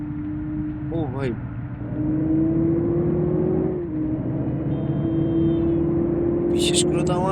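A modified bus engine in Bus Simulator Indonesia holds a steady, droning hum that rises in pitch and loudness as it revs up, with short mechanical chirps and a hiss near the end.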